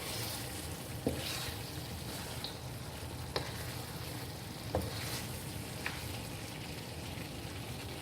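Chicken masala for smoky desi murg sizzling as it is roasted and stirred with splashes of water, a soft continuous crackle with occasional sharper ticks and spatters.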